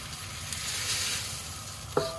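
Gongura leaves sauté in a pan with a continuous close sizzle and soft stirring scrapes, ending in a sharp utensil knock.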